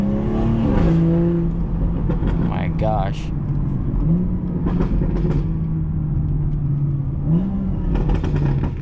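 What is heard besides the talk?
car engine revving during downshifts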